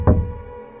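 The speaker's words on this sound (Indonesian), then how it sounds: "Surya berjalan mendekat dan mengetuk pintu." A single dull knock on a door lands near the start, a low thud with a short hollow decay, alone and moderately loud.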